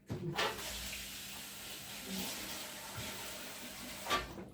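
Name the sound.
water being poured while cooking rice pudding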